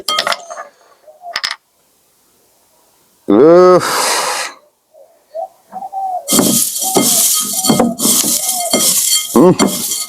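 Papaya chanachur tossed by hand with onion, salt and pure mustard oil: dense, crisp crunching and rustling fills the second half in quick bursts, after a brief voiced sound and a few quiet knocks.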